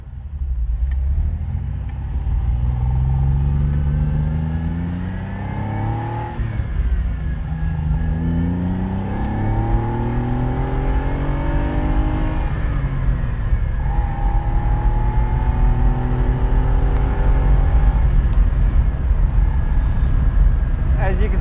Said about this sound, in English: As you can see, it revs beautifully, it shifts beautifully.